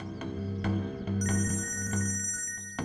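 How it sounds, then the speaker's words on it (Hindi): A telephone rings in a steady, repeating electronic pattern of short pulses, fairly quiet, with no voices. "भाई साहब आपका फोन बज रहा है"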